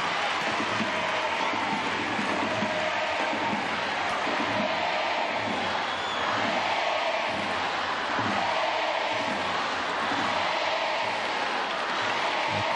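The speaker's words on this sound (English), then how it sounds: "They're calling out for Alexia Pateas." A stadium crowd at a Barcelona vs. Sporting Huelva Liga F women's football match chants for Alexia Putellas, a dense, continuous wall of voices with a steady rhythmic rise and fall throughout.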